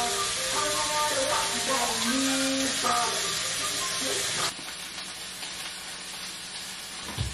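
Shrimp sizzles and fries steadily in a pan as a cube of citrus dill spiced butter melts around them, a dense hiss running throughout, slightly quieter in the last few seconds.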